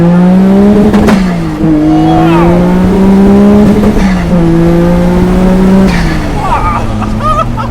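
A twin-turbo Nissan Skyline R32 GT-R engine roars as it accelerates hard, revving up through several quick gear changes, loud and close, with a voice speaking briefly.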